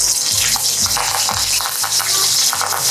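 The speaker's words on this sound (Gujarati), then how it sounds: "પછી એની અંદર આપણે થોડી રાઈ મૂકશું, જે તતડી જશે" Mustard seeds crackle in hot oil in a pan, making a steady, close, loud sizzle with no one talking.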